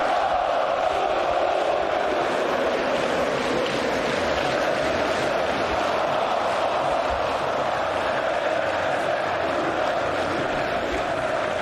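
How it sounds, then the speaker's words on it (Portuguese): Corinthians supporters roar in a packed stadium during the 2013 Libertadores, a dense continuous wall of crowd noise and cheering that stays loud and steady throughout with no break. "a reação da torcida do Corinthians merece ser vista e ouvida"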